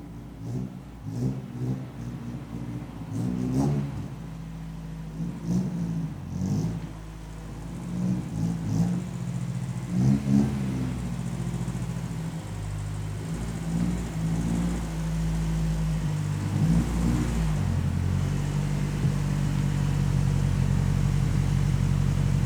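A car engine idling and revving gently while the car is backed into a garage, a steady close rumble with small throttle swells that builds toward a fuller, louder drone near the end.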